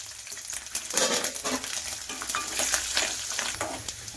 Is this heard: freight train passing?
no